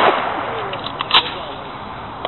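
A .50 Smith Carbine rifle fires outdoors: one sharp, close crack with a short echoing tail, set against faint background hiss and a few smaller clicks.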